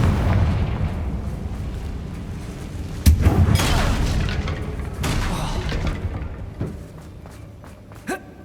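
A series of Confringo fire-blast spells from Hogwarts Legacy burst in heavy booming explosions during a spider fight, one strong hit followed by several rumbling blasts and softer pops that fade near the end.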